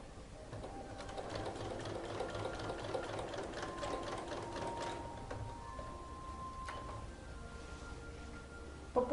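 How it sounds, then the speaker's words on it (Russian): Sewing machine stitching along a denim jeans pocket, sewing down the seam allowances onto the pocket lining; a steady, continuous mechanical whir with fine rapid needle ticking throughout, ending in a brief clunk. "Перестрачиваем припуски на мешковину."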